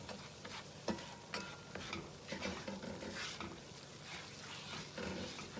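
Onions being stirred in a hot roux for pork chop gravy: soft, repeated scraping strokes over a gentle, steady sizzle, close and quiet.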